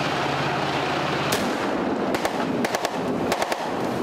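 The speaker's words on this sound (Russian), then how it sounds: "Взрывают танки, расстреливают колонну условного противника." Gunfire and explosions ring out during a mountain ambush exercise where tanks are blown up and a column is fired on: a loud blast followed by sharp, irregular bursts of shots and bangs echoing outdoors.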